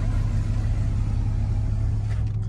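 Powerful V8 muscle-car engines — a Dodge Scat Pack, a Hellcat and a Camaro ZL1 — rumble steadily and loudly nearby during a high-speed backroad chase, a continuous low drone with no talk.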